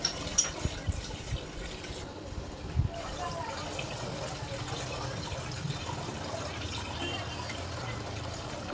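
Water running from a pump-fed tap in a home kitchen, a steady, moderately faint gushing flow with a few knocks early on and faint background sounds.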